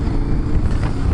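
KTM 1050 Adventure motorcycle accelerating, a brief loud engine roar mixed with rushing wind noise on the microphone, sustained and rough for a moment.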